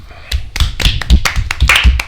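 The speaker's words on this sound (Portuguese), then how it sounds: "Antes de você continuar isso, merece uma salva de palmas." A few people clap by hand during a wine podcast recording, a short uneven run of close, sharp claps with irregular spacing.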